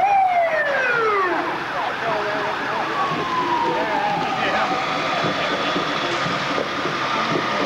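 A loud ambulance siren wails with sweeping rising and falling tones close by at a community picnic, with engine noise and crowd voices mixed underneath.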